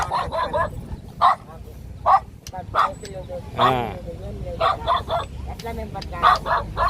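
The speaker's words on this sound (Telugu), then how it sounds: "ఆ కుక్క ఆపండి కుక్క ఆపండి సౌండ్ విపరీతంగా వస్తుంది" A dog at a nomad tent camp barks sharply and repeatedly nearby, loud yips breaking through people talking.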